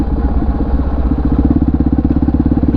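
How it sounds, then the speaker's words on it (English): A Honda XR650R motorcycle engine idles close by with a steady, loping thump of firing pulses, loud and unbroken for the whole stretch. "the amazing thing is the sound that this bike makes"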